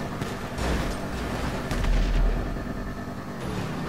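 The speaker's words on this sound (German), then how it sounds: "Bitte nicht hier rumschießen." Gunfire and booming blasts in the video game GTA 5 Online on PS3, loud and continuous, dense rumbling shots with a few sharper bursts throughout.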